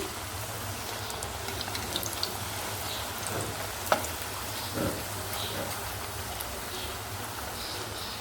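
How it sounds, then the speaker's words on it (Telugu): Bottle gourd fritters deep frying in hot oil: a faint, steady bubbling sizzle that runs evenly throughout, with a single small click partway through. "ఇప్పుడు మనం చేసుకున్న వాటిని ఇలా ఆయిల్లో వేసేసుకొని డీప్ ఫ్రై చేసేసుకుందాం"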